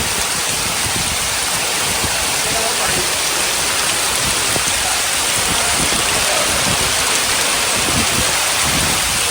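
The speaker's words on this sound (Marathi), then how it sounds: "हवा आणि पाऊस बघा कसला आलाय बघा" Heavy monsoon rain with gusting wind in rural Konkan, a dense, steady roar of downpour running throughout at close range, loud and unbroken, with no clear talk over it.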